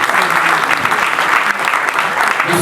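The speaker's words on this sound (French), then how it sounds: "nous allons donc applaudir très fort pour le pasteur" A hall audience claps hard for a pastor at an evening celebration, dense, steady applause filling the whole stretch at close range with no pauses.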